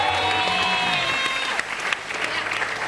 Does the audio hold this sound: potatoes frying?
no